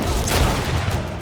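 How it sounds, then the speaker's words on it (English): Rapid bursts of gunfire in the video game GreedFall, a dense, loud barrage of overlapping shots filling the whole moment with no voices. "Rapid fire"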